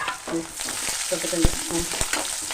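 Onion frying with a dried red chili and cut green chilies, steady sizzle with sharp clicks of a spoon stirring against the pan.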